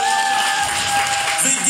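Wedding guests at a reception cheer and clap for dancing contestants, a dense, loud wall of crowd noise with whoops and shouts, sustained throughout with music underneath.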